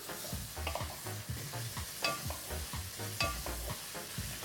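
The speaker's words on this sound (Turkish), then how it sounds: "Kayseri usulü soğan yahnisinin en büyük özelliği Eti iyice kavrulacak." Meat sizzling and being browned in a pan for Kayseri-style onion stew, a steady close frying hiss with repeated scraping stir strokes.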